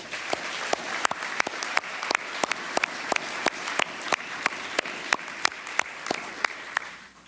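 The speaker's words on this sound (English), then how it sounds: "Let's give them all a round of applause." At a global awards and recognition dinner, the audience applauds a group of young professionals: a steady, fairly distant patter of many hands, with a few sharp nearby claps standing out throughout.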